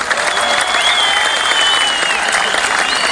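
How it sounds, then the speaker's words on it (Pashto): A short burst of dense clapping from the audience at a Pashto poetry recital, steady and loud with light crowd noise beneath. "ښه یې ورته چکچکې وکړئ"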